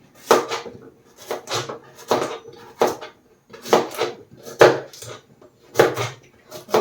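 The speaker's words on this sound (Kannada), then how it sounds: "ತೊಳ್ಕೊಂಡು ಕಟ್ ಮಾಡ್ಕೊತಾ ಇದ್ದೀನಿ ಚಿಕ್ಕ ಚಿಕ್ಕ ಪೀಸಾಗಿ." A knife chops washed, peeled radish into small pieces on a cutting board, a few clear, separate knocks at a time, close and unhurried.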